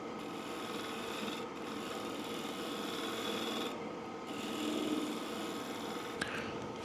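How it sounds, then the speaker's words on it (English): A shear scraper takes a light finishing cut on a cherry bowl spinning on a wood lathe, giving a continuous close rasping scrape with a few brief pauses and no talking. "it's more of a finishing cut with your shear scrape versus kind of a material removing scrape"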